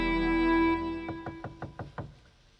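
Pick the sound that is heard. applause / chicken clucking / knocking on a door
knocking on a door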